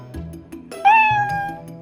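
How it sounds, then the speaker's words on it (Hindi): A cat lets out a loud, drawn-out meow that rises and holds for about half a second, preceded by softer low sounds and followed by a fading tail. "बिल्ली जोर से म्याऊं म्याऊं करती है।"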